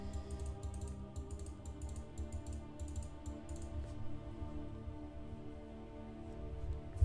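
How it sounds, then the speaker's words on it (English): Rapid clicks of typing on a computer keyboard come in bursts and pauses over a steady low electrical hum, fairly faint and close, with no speech. "If the keyboard maybe is a little too loud,"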